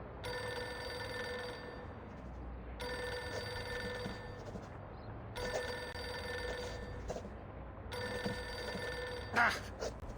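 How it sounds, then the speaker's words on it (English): A telephone in the video game Reverse 1999 rings in four long bursts of bright, trilling bells separated by short gaps, clear and upfront. "What are you waiting for, Friedrich? Pick up the phone already."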